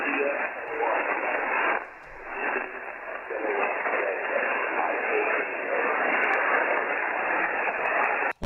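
Amateur ham radio reception during a live on-air contact, a steady band-limited hiss of static filling the whole stretch, with the signal briefly dipping and fading near the two-second mark before returning, ending with an abrupt cutoff.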